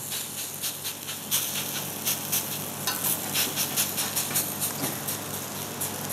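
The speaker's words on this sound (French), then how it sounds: "on va mettre le manioc haché sur le bilic ou sur une poêle" Chopped cassava pressed into a round galette frying on a griddle or pan, a continuous close sizzle with repeated light scraping and pressing taps throughout.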